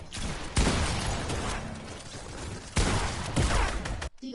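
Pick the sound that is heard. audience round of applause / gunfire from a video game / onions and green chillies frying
gunfire from a video game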